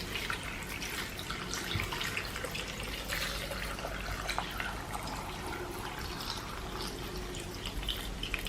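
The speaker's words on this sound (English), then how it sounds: "Add 2 cups of water." Continuous splashing and rushing water poured into a blender over cucumber, lemon and ginger, a steady broadband pour with no pauses, close up and fairly loud.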